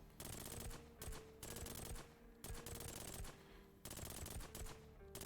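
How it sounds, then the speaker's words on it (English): Rapid laser fire in the mobile strategy game Girls Frontline: dense bursts of quick repeated shots, each volley lasting about a second with short gaps between, faint and steady in rhythm. "she's firing lasers at them"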